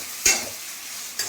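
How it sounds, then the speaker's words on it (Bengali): Onions fry in hot oil in a wok, giving a soft continuous sizzle. Two sharp scraping stirs cut through it, one near the start and a fainter one near the end. "পেঁয়াজগুলো ভাজা হোক,"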